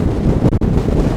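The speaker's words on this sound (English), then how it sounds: "Man, it's too windy." Strong wind buffets the microphone in a steady roar at an RC glider flying field, with a brief dropout in the middle before the rushing gusts resume.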